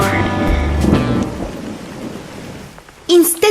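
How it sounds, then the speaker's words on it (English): Heavy rain pours down steadily as thunder rumbles low and close, followed by a brief sharp burst of sound at the end. "It's raining really hard."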